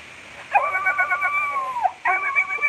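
A dog whimpers and cries in drawn-out, high wavering whines, two close cries separated by a short pause, loud and alone.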